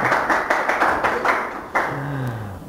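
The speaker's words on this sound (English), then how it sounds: "You can clap, guys, now." A few people clap at a software developer talk: a brief, fairly close run of claps in an uneven rhythm that fades within about two seconds, followed by a short spoken word.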